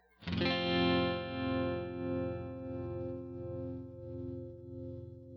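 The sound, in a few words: pattern tremolo effect, sine waveform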